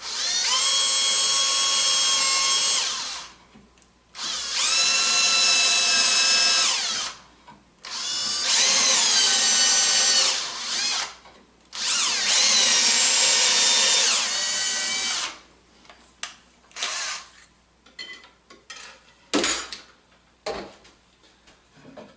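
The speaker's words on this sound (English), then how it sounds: "Just want to drill a pilot hole," A power drill whirs in several bursts of a few seconds each while drilling a pilot hole into wood, pausing between runs, followed by scattered clicks and handling noises.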